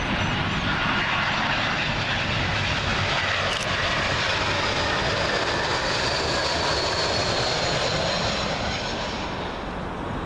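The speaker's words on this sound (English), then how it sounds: "Up next, British Airways A319 in from Edinburgh." A British Airways A319 jet from Edinburgh comes in to land on runway 27L at Heathrow, a loud, continuous engine roar with a rushing whine that sweeps overhead and slowly eases off.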